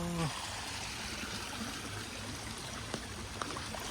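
Floodwater from heavy rain rushes steadily through a flooded village in a broad, continuous flow, a constant wash of noise with a brief voice at the start.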